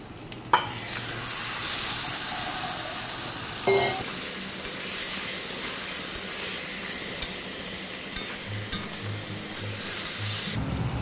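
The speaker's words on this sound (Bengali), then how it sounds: "এবার ম্যারিনেট করে রাখা চিকেনটা দিয়ে দেবো।" Marinated chicken goes into a hot pan for a light Bengali chicken curry with potatoes and hisses into a steady, loud sizzle with occasional stirring clinks, no voices.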